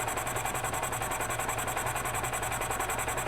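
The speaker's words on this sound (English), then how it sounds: "See if we get a running engine here." Gas engine of a 2007 EZGO TXT golf cart running steadily at idle, a continuous even drone with a fast regular pulsing, close and fairly loud throughout with no talk.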